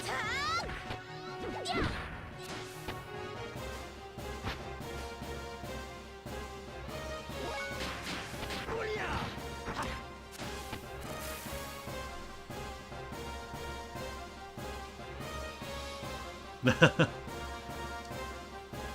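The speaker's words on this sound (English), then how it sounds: "I like the shattered glass transition" Xenogears on PS1 plays a shattered-glass screen transition, a burst of crashing shards set against busy game music, with a short, sharp cluster of louder hits near the end.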